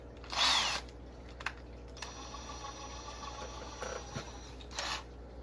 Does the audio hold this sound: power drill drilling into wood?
yes